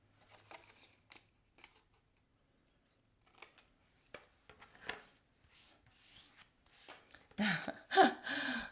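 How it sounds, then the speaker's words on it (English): Scissors trimming the edges of a paper card, a series of short quiet snips and paper rustles, growing closer and louder toward the end. "We're just going to cut off the edges."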